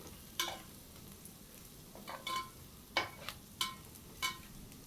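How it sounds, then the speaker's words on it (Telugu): Chili powder, turmeric and salt frying in oil while a spoon stirs, giving about seven sharp scraping strokes at uneven intervals over a faint, steady sizzle, close and without speech. "కారం నూనెలో కసిపు వేయిస్తే కలర్ బాగుంటుందండి"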